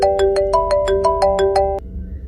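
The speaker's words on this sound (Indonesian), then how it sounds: "tiba-tiba ponselku berbunyi" A mobile phone rings loud and close, about nine quick repeated electronic tone bursts in a steady pattern, then cuts off abruptly into quiet.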